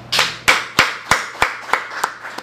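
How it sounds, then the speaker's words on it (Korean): A church congregation claps in unison during a Korean service, eight sharp claps in a steady, even rhythm, each with a short echo that fades slightly as the clapping goes on. "이 모든 여정을 이끌어 오신 하나님께 박수 한번 드립시다"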